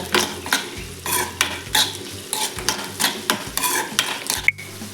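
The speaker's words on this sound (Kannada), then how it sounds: "ಸ್ವಲ್ಪ ಕೊತ್ತಂಬರಿ ಬೀಜ ಫ್ರೈ ಮಾಡಬೇಕಾಗಿದೆ ಕೊಂಚ" Whole coriander seeds frying and being stirred in a pan for a village-style egg sambar: repeated scraping strokes of a spoon against the metal, each with a short sizzle. The rhythm is steady and close, with no talk.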